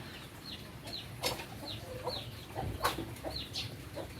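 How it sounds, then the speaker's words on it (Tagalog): Chirping chicks being fed by a parent bird among garden plants, repeated short high cheeps coming in quick bursts with a few louder peeps, steady and fairly close over quiet outdoor background. "Ang cute ng ibon. Sinusubuan sila."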